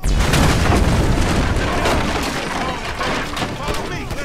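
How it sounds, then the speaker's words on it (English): A gas can shot and exploding in GTA V, a loud booming blast with scattered gunfire around it, sustained heavy rumble that gradually settles. "You shoot the gas can."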